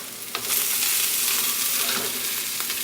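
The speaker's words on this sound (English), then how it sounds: "Stir." A corn mixture seasoned with salt and pepper fries in a pan, a close, bright, steady sizzle with a few light scrapes as it is stirred.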